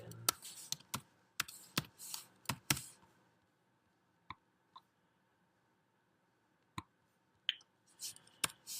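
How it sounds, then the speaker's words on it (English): Computer keyboard typing during Windows Server 2012 setup, with a quick burst of clustered clicking keystrokes at the start, then a few sparse isolated key taps after a quiet pause, near and clear with no talk. "I'll type that in."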